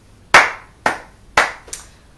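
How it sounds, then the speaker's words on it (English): Four sharp, close hand claps ring out alone at an uneven, unhurried pace, each snapping crisply and decaying quickly, with the last one noticeably softer than the others. "I applaud you, Jaden Smith."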